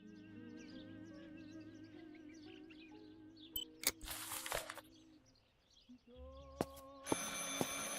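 Telephone ringing in the psychological horror game Martha Is Dead, rising in brief loud bursts over a steady musical background with faint bird-like chirps.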